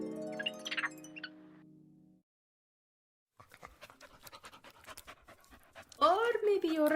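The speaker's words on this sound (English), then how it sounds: "Senora Kahlo, he's not a spirit guide, he's a regular dog." A dog pants in quick rhythmic breaths, close and soft, following a musical tone and a silent pause, with a voice speaking over the end.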